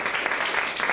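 Audience applause at a magic conference, a steady dense patter of many hands clapping throughout one second, fairly loud with no break.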